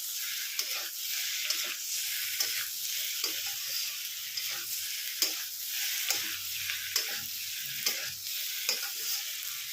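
Potatoes and prawns frying in oil crackle with a steady sizzle while a utensil scrapes through them in repeated stirring strokes, the scrapes sharp and regular over the constant hiss.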